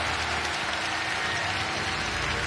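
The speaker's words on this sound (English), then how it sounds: "I want her to clap to the people. Come on. Let's. Come on. Clap with everybody else." A congregation at a believers' healing convention claps together, a dense continuous wash of applause that stays loud and even throughout, with no voices standing out.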